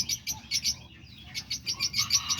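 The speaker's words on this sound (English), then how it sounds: "give everybody a little update of how the birds are doing, the diamond doves and cockatiels and lovebirds and parakeets." Diamond doves, cockatiels, lovebirds and parakeets chirp in a steady stream of short, bright calls. The notes come in quick overlapping bursts at close range, with no talking.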